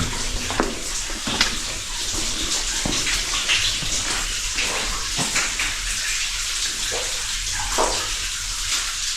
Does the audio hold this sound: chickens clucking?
no